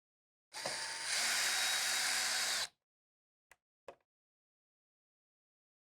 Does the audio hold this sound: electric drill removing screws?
yes